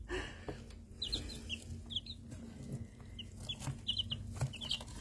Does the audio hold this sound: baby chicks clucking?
yes